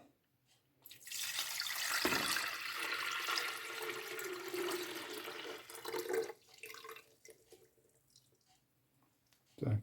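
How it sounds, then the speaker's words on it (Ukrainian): Water pours steadily into a container for several seconds, rushing and splashing, then tapers off into a few drips. "Ставимо і акуратненько заливаємо водичку."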